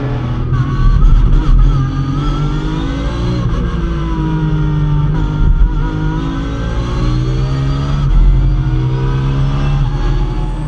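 Ferrari and Porsche race cars in a circuit race at the Anneau du Rhin roar close by in a loud, continuous engine drone with shifting revs, heard at the race start.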